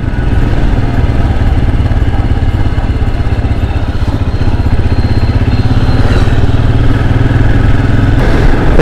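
A Royal Enfield Himalayan thumps along on a morning ride, its engine a close, loud, steady low chug with wind rush and no talking.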